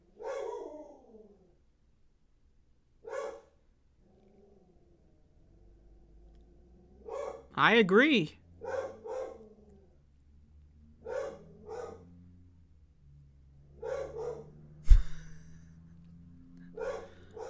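A pet dog barks in short separate bursts across an indoor scene, with a louder flurry of rapid yips in the middle and a few softer single barks later, and some quiet breathing between them. A person speaks one brief line.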